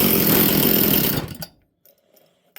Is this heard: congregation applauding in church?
no